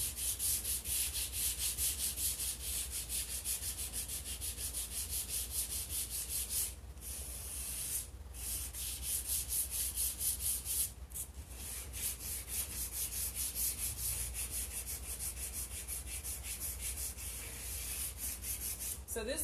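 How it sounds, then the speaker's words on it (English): Hand sanding scrubs steadily at the bottom of an old wooden dresser, close and continuous rasping strokes that pause briefly a few times. "now I'm going to do some more sanding at the bottom"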